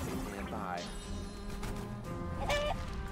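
Chickens cluck in the fantasy role-playing game Divinity 2 Original Sin, short bursts over music and game noise, with a voice talking alongside.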